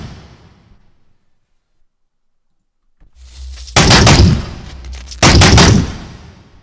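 Two loud, sharp Brute Rifle gunshot blasts from Halo Infinite about a second and a half apart, each trailing off in a crackling, sizzling tail after quiet.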